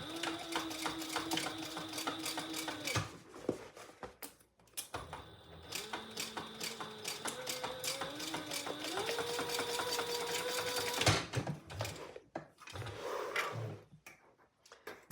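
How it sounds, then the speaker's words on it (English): Sewing machine stitching the corner of a fabric shoulder bag, close and steady with a rapid mechanical clatter, pausing briefly midway and then resuming before slowing and stopping near the end. "let's sew this corner out of the box"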